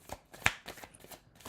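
Tarot cards with a shiny finish are shuffled close up and quietly, giving a short run of soft riffling flicks and taps with one sharper snap in the middle.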